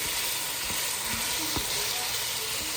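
Ground beef sizzles in olive oil in a pot for spaghetti sauce, a steady close hiss with a few soft stirring knocks.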